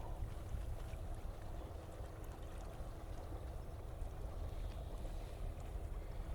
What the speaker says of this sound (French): Il y a un autre clapotis derrière que j'entends.